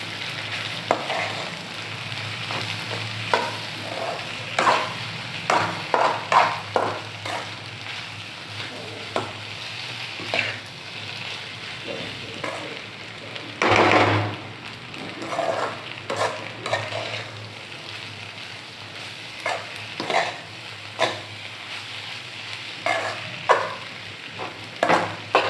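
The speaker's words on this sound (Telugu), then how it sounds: "ఇప్పుడు వీటన్నిటిని ఇలా బాగా మిక్స్ చేసుకోవాలి." Pasta sizzling in a pan as it is stirred with Maggi masala and salt, a steady fry hiss broken by repeated scraping and clinking strokes of a spoon, close and alone.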